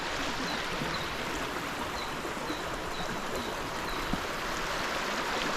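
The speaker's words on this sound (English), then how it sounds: "Here we are, up on the rock, having a look down at the rapids." River rapids rush steadily in a broad, unbroken roar of water, heard from up on a rock in the Otways, loud and constant with no other sounds standing out.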